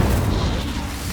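An Incendio fire spell cast in Hogwarts Legacy bursts out as a loud, dense whooshing roar with heavy low rumble, sustained through the moment with no talk.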